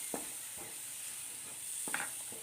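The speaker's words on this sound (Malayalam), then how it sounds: "ഇനി ഇതിലേക്ക് ഒരു ചെറിയ തക്കാളി അരിഞ്ഞത് അതും കൂടി ഇട്ട് കൊടുക്കുക" Chopped tomato sautés in masala in a pan, with a constant soft sizzle under a few light scraping stirs of a spoon against the pan and no voices.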